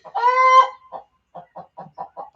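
A chicken lets out a drawn-out squawk followed by a quick run of short, rhythmic clucks, loud and close with nothing else behind it.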